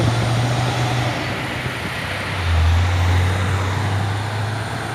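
A Fuso truck with a silver cab and intercooler drives past on the road, a loud low engine drone that shifts pitch midway and swells as it passes, with traffic noise around it.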